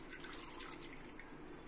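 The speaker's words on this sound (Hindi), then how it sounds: "इसमें हम पानी डालेंगे" Water pours steadily into a pressure cooker holding potatoes, eggplant, peas and capsicum for pav bhaji, a continuous close splashing rush with no talk.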